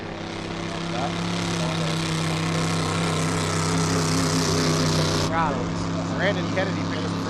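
Hydroplane race boat engine droning as it races at the Valleyfield regatta, a steady loud roar under continuous commentary, with the engine note shifting partway through.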